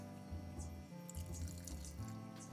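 Water is poured into a blender jar while preparing homemade dog food, a steady close splashing gurgle with small pulsing surges for a couple of seconds.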